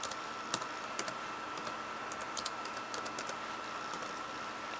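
Fingers tap out an IP address on a computer keyboard in a scattered series of light, quick clicks over a steady background hum, close and quiet, with no voices.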